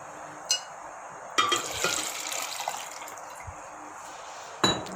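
Water poured into a blender jar holding peaches for juice, heard as a short burst of splashing and trickling with a few brief clinks of glass before and after, close and fairly quiet.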